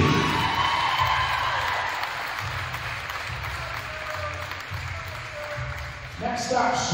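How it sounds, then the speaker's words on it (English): Crowd applause in a high school gym for a senior girls' basketball player on senior night, a broad steady wash of clapping that fades slightly midway, with a low rhythmic thump beneath and a voice returning at the end. "How about a round of applause for super senior Emily Patrizzi?"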